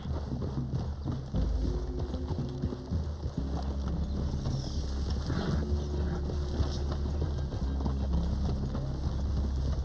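Horse hooves clip-clop steadily on the ground in Red Dead Redemption 2, a close, even walking rhythm under light wind and outdoor ambience.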